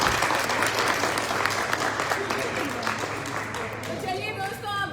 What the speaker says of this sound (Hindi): जोरदार तालियां दुष्यंत को।